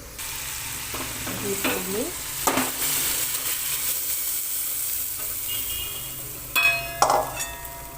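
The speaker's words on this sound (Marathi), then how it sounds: "आणि फोडणी डायरेक्ट टाकायची आहे" Hot tempering of mustard seeds, cumin, curry leaves, chili and red chili powder hits cooked dal with a steady sizzle, punctuated by metal spoon clangs and stirring scrapes, close and moderately loud.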